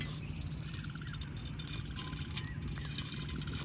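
Oil is poured into a cooking pan to start a liver bhuna in a home kitchen, giving a steady, even trickling hiss that runs the whole time at low volume, with no speech.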